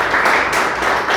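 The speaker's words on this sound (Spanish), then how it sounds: "¿Cuánto le dan un aplauso al Señor?" Church congregation applauding for the Lord, a dense, steady wash of many hands clapping together, loud and close, brief and continuous.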